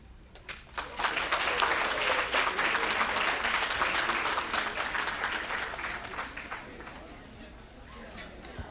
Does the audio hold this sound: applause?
yes